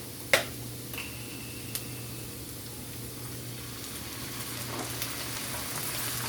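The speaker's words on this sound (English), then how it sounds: "allow that to come back to a full simmer" A vegan sloppy joe mixture with added oil and veggie stock simmers in a pan, giving a steady, soft bubbling sizzle throughout, with a faint clink near the start.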